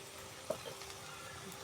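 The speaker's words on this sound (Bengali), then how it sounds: "এখন এটা ভাজে নিব।" Ground spice paste frying in a pan for a red fish curry with boiled potatoes, a faint, steady sizzle with one small pop near the start.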